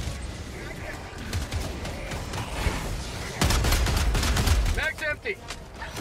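Rapid bursts of autocannon fire in a video game, loud and repeated in quick volleys, with battle noise and excited voices talking over it.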